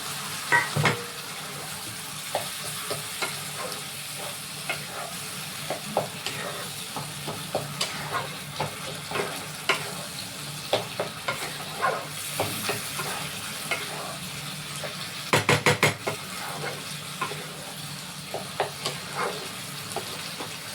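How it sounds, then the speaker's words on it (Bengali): Banana stem tipped into a pan of sautéed spices and stirred, a continuous close sizzle broken by frequent scraping strokes of a spoon, with a burst of rapid clatter partway through. "এবার আমি থোরটাকে ঢেলে দিচ্ছি।"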